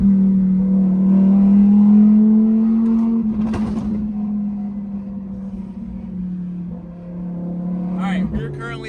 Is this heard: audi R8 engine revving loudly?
yes